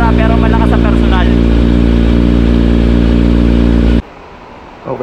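Kawasaki Z900 motorcycle engine idling steadily with a loud, even exhaust drone that cuts off abruptly near the end, leaving quieter background noise.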